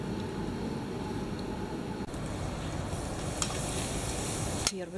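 Steady crackling sizzle of meat on a hot grill, a dense continuous hiss with a couple of sharper pops near the end.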